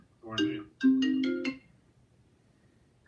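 A phone ringtone plays in short melodic bursts, one brief tone followed by a longer chiming phrase, moderately loud indoors with no talk over it.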